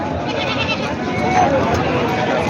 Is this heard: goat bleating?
yes